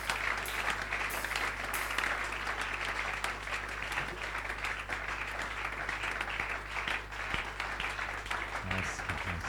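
A congregation applauding during a church service, with steady, sustained clapping from many hands filling the room, fairly loud and continuous throughout.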